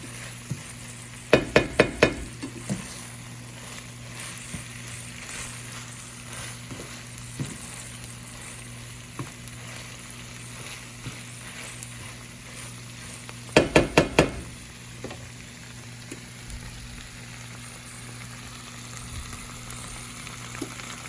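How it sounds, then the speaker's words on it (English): Spinach wilts into a keto sausage dip in a pan, a low steady simmer under soft scraping strokes, with two short bursts of metallic clinking from a utensil against the pan. "And then you just slightly mix it up, a little here, a little there, until the spinach has wilted to your liking."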